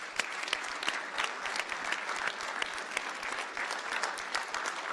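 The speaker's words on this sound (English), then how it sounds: "Let's give them a round of applause too." Audience applause for the coaches and athletic director at a town board meeting, a dense patter of many hands clapping steadily for several seconds, moderately loud and close, with no voices on top.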